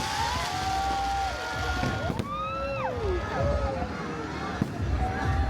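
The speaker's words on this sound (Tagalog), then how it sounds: "Bongga naman ng fireworks display nila." New Year fireworks at Mall of Asia, Philippines, streak upward whistling with rising and falling tones over a steady crowd murmur, with a couple of sharp pops cutting through.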